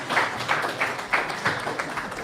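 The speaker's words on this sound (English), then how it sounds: "One more round of applause," Audience applause at a hackathon final demos livestream, faint and distant, a short burst of scattered clapping with uneven rhythm.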